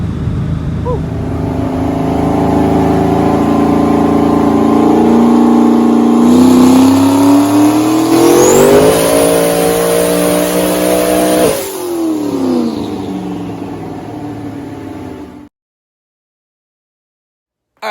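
Turbocharged Ford Coyote V8 car with an 80mm On3 turbo kit accelerating hard, a loud close engine roar rising in pitch through one long pull with a gear shift near the end, then cutting off abruptly.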